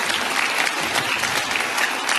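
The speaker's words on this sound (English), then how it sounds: "How about a round of applause for you guys" Audience applause at a jazz festival in Boardman: dense, steady clapping from a large crowd, sustained and fairly loud throughout with no break.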